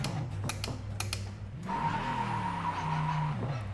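Hard braking on the Spa-Francorchamps circuit in the racing game Project Motor Racing, with a steady engine drone and tyres scrubbing and skidding as the car slows, close and fairly loud, with no talk over it.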